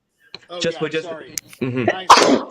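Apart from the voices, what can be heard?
sneeze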